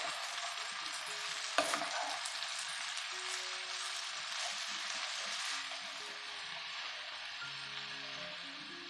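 Amaranth leaves being stirred with salt and turmeric in a frying pan, giving a steady soft sizzle with scraping stir sounds and one sharp clink of the utensil early on.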